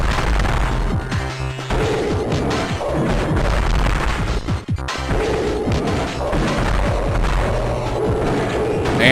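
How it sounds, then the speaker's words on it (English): Missiles slam into a boss in a Metroid game, a dense run of loud crashing impacts and thuds over pounding game music, with a brief sharp gap and hit near the middle. "I can sneak in 2 missiles."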